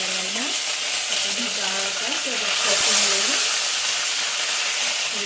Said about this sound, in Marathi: थोडंसं जिरं टाकायचं। मोहरी जिरी चांगली करून द्यायची।